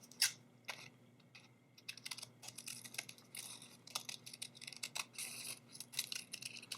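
Scissors snip through folded paper while a paper heart is cut out, giving quiet, close, irregular crisp cuts in a steady run.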